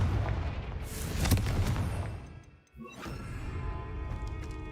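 A Confringo blasting spell goes off in Hogwarts Legacy with a loud, rumbling explosion that swells, fades into a brief near-silent dip, then returns as a lower ringing rumble.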